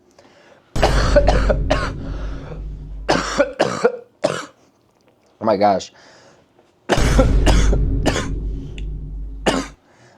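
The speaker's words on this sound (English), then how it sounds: "I was holding that cough in the entire time I was talking." Loud bursts of coughing, close and harsh, coming in clusters with short pauses between them, along with a brief spoken exclamation.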